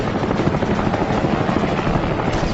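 WWI Fokker fighter plane diving head-on, a loud continuous engine and propeller roar that holds steady throughout without letting up.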